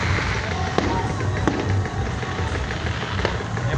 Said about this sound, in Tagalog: Ayan po yung fireworks.